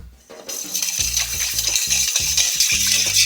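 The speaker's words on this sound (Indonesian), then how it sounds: "sekarang tinggal kita aduk" Green beans with a mirin-sesame sauce stirred in a pan: a continuous bright sizzle under repeated scraping and clinking strokes of the utensil against the pan, close and fairly loud, starting after a short quieter moment.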